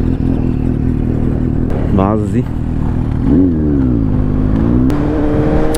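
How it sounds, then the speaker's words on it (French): A Yamaha TMAX maxi-scooter engine drones steadily at full throttle, its pitch rising and falling as it strains, with wind noise and a brief spoken word over it. "je mets à fond les gaz, ça rame un peu"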